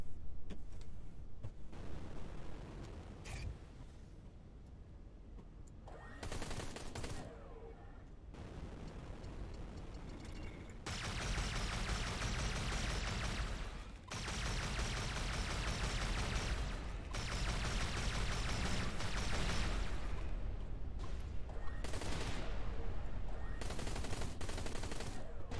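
Quill gun firing in the space shooter Everspace 2, long stretches of dense rapid fire and blasts with brief pauses, loud and continuous, with scattered game noise.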